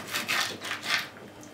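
Knife slicing lengthwise along raw pork ribs to portion them for marinating, two close, dry scraping strokes in quick succession, alone.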